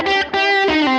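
Electric guitar through a Line 6 Helix Tone Sovereign drive in boost mode with the gain cranked, giving a loud, saturated sustained chord with a brief dip before it rings out again, with no voices.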